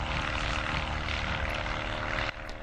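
A Hunter X-Stol RC airplane drones steadily overhead, its propeller engine buzzing loud and continuous, easing slightly in pitch near the end.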